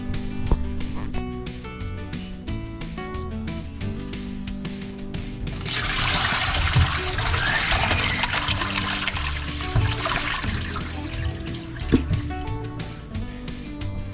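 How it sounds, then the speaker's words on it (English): Tap water runs and splashes steadily for several seconds while a pressure canner and glass canning jars are washed, with music playing throughout. "we can get started washing off our pressure canner and our jars."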